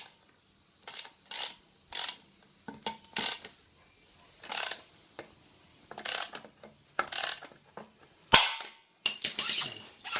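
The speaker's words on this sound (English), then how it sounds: "Then we put our ball joint remover on. And apply some pressure." A ball joint remover is tightened on a Subaru front control arm, giving a series of close, sharp ratcheting clicks in short irregular bursts with brief pauses between them.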